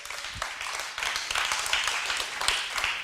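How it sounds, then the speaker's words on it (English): A crowd at an evening gathering gives a round of applause: many hands clapping in a dense, crackling wash, starting up and sustaining for about three seconds at moderate loudness, with no talking over it. "So if you guys want to give Blake a round of applause"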